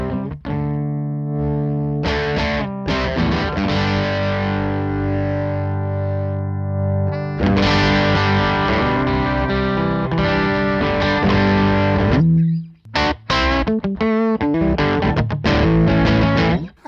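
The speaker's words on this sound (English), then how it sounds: "I mean, it's a distortion." Electric guitar played through a distortion effect, with sustained gritty chords ringing out and then choppy, broken strums with short gaps near the end, loud and close with no talking.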